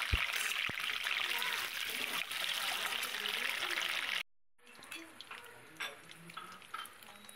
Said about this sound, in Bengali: তারপরে ডিমটাকে ভেজে নেব